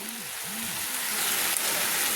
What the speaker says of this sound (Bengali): পুঁই শাকও তেলের সঙ্গে ভালো করে কষিয়ে নিচ্ছি।